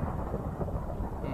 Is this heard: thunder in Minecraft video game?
yes